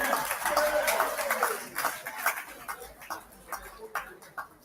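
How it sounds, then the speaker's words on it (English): Scattered clapping from an audience at an anniversary commemoration in Guyana, a patchy run of distinct claps that starts with a voice briefly over it and thins into sparse, irregular hand claps. "If y'all clapping, clap, man."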